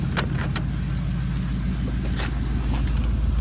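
A 1953 Oldsmobile 88 classic car drives along with a steady, close engine rumble and road noise filling the whole stretch, with a couple of faint clicks and no talking.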